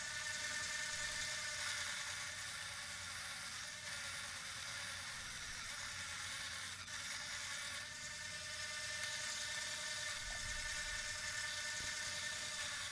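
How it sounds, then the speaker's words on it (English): Sander running steadily on the curved edges of a wooden workpiece that was roughed out on a bandsaw: a continuous motor whir and belt hiss at constant loudness, close by, with no voices. "And then we'll move over to the sander and fix all my curves"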